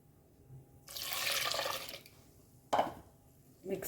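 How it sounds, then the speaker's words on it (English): Water, one cup, is poured into a cooking pot while making Goan bimbli sorak, a zero-oil bilimbi curry: a steady splashing pour of about a second, followed by a couple of brief clinks and stirring sounds. "now we will add some water"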